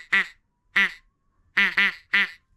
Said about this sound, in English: you're doing a gray duck call